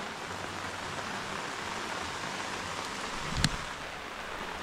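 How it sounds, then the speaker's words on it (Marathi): Steady rain falls close to the Napne waterfall in Maharashtra, a dense, even hiss of drops with one brief louder knock partway through and no voices. "मंडळी नापणे धबधब्याच्या जवळ आलो आणि पाऊस चालू झाला आहे बघा"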